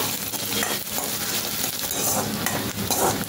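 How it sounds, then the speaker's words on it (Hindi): Chopped onion and green chilli frying in a pan for a cabbage sabzi, stirred steadily: a dense, loud, continuous sizzle with scraping strokes and light metallic clinks of the spoon throughout. "अब मैं इसमें कांदा भी कटा हुआ डाल दूंगी और इसके साथ हरी मिर्ची भी डालकर मैं थोड़ा कांदे को भून लूँगी।"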